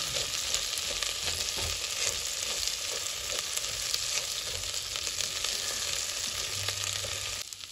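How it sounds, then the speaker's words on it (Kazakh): Liver fries in hot oil in a pan, a loud, close, continuous sizzle and crackle with occasional stirring scrapes, and no voices. "құйған майымызға жақсылап 1-2 минутта қуырып аламыз"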